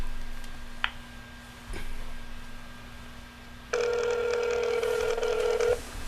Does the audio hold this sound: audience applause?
no